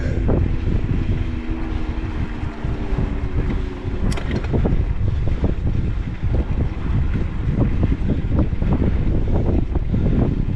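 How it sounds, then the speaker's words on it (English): Loud, constant wind roar buffeting the microphone while riding a Ride1Up Turris e-bike outdoors, a steady rushing noise with no other clear sound and no talking. "See if you can hear anything other than the wind."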